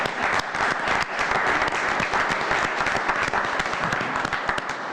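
Sustained, dense applause from an audience at a Homer Glen village board meeting, many hands clapping loudly and evenly throughout with no pause.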